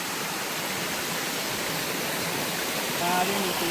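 Floodwater pours out across farm fields near a flooded onion storage shed, a steady broadband rush that holds constant throughout and swells slightly near the end, with a faint voice briefly audible.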